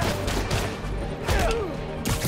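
Gunshots in Spider-Man: Miles Morales crack in a short, busy burst amid swooshes and impacts of a brawl, loud and close.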